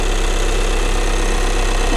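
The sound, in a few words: Volkswagen Passat 2.0 TDI B7 diesel engine idling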